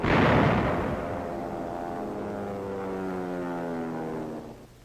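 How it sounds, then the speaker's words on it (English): A loud, booming blast from 6-inch howitzers shelling a fortified wall during a WWII siege, then a long rumbling roar that slowly decays. "6-inch howitzers pound the north wall."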